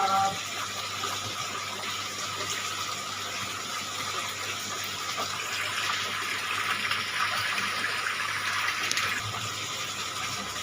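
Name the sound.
water being poured into an aquarium container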